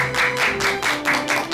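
A studio audience claps to welcome a speaker to a lecture, a steady burst of applause close by with no voices over it.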